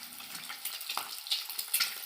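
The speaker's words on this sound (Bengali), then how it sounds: "তেল গরম হয়ে গেছে আমি এবার ডিমগুলো দিয়ে দেবো আমি ডিমগুলো লাল করে ভেজে নেবো একদম" Eggs fry in hot oil in a wok, a close, bright crackling sizzle with irregular pops and spits running throughout.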